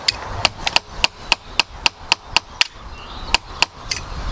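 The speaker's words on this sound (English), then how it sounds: "Alright, hammer that straight down," A hammer strikes wood in a rapid series of about a dozen sharp, close knocks, spaced unevenly with a brief pause before the last few blows, outdoors at a bush camp with no talking.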